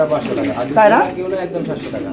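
A pigeon coos briefly, a soft rolling call rising out of steady background voices and room noise, among pigeons for sale.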